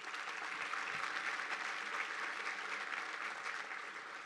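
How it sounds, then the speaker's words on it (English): A round of applause at the Oro Valley Economic Outlook 2024 event, steady clapping from an audience that holds evenly throughout, heard from a moderate distance. "So let's give them a round of applause."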